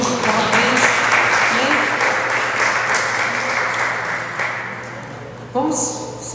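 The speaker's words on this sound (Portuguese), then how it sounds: "Dê uma salva de palmas, Senhor Jesus" A church congregation claps together during a celebration service, a broad sustained round of applause that slowly fades, with voices mixed in under it.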